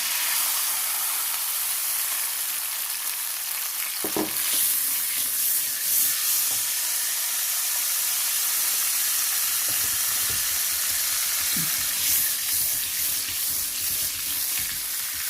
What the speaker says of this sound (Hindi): हमने पैन में थोड़ा सा 1 खाने का चम्मच जो है वो बटर डाला है, और ये आधा कप जो है हम इसमें स्प्रिंग ऑयल डाल रहे हैं।